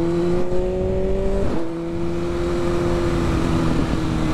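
A BMW S1000RR motorcycle rides through a city at night, its engine holding a steady, loud drone close by. The pitch shifts once partway through as the rider changes speed, with no talking.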